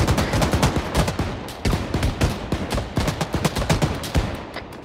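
Heavy automatic gunfire and repeated cannon blasts from an armored vehicle in the Arma 3 combat game, a dense rapid barrage of sharp reports that stays loud and continuous throughout.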